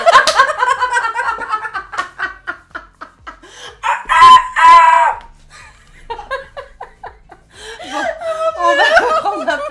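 A person imitates a rooster's crow in a strained, warbling voice, surrounded by chuckling and lively talk from others nearby.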